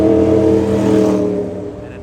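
A loud Lamborghini engine revs hard in Tokyo, a deep, dense roar close by that holds strong, then eases off slightly toward the end of the short burst.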